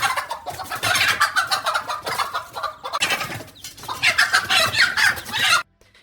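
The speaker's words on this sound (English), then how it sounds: "this mother chicken was not having any of it" A mother hen clucks loudly and continuously while confronting a cobra, her agitated calls coming in rapid bursts up close before cutting off abruptly near the end.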